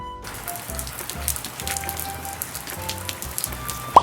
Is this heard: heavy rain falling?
yes